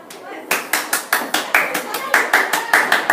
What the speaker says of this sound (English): Everyone applaud John Azay.